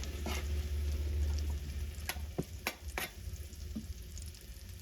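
Shallot sizzles in a pan, a loud steady frying hiss punctuated by a few sharp utensil taps and stirring scrapes.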